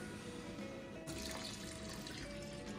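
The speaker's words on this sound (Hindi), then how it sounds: "आधा कप पानी का ऐड कर देंगे" Half a cup of water is poured into a pan of grated carrots mixed with rice and green cardamom for gajrela, starting with a sudden close splash and continuing as a soft, steady trickle.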